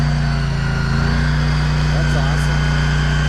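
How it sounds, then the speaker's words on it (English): Big remote control toy car with its engine droning steadily at speed, a constant buzzing motor tone heard close up for a few seconds without pause. "as soon as I start driving, and the engine revs out to its own speed"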